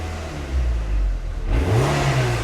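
A tuned car engine managed by an EMU Black V3 ECU during variable valve timing setup idles steadily, then is revved once, its pitch rising quickly and holding higher, loud and close, with no talking.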